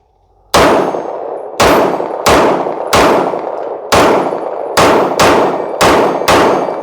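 Archon Type B gun in a video game firing nine sharp, metallic shots in an uneven, quick rhythm, each loud clanging report decaying briefly before the next.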